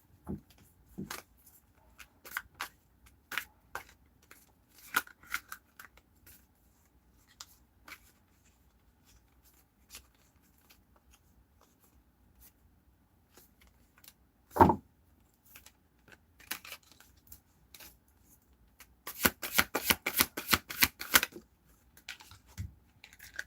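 A deck of tarot cards being shuffled up close, with soft scattered riffles and taps through most of the stretch, one sharp knock midway, and a quick burst of rapid riffling near the end.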